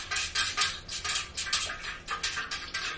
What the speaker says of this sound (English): So I'm just gonna stir it for about 1 to 2 minutes